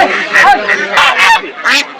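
Several domestic geese honk loudly and repeatedly at close range at a poultry market in Nalitabari, harsh overlapping calls in uneven bursts.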